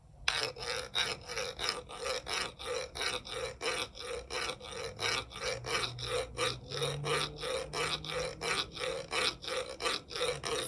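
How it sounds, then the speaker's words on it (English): Stick scrape played as percussion: a dry, raspy scraping stroke repeated in a steady, even rhythm, about two to three strokes per second, close and fairly quiet, with no talking. "We are using a stick scrape to make this sound."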